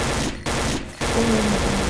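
Bursts of rapid video game gunfire crackle in quick volleys with short gaps between them, loud and close.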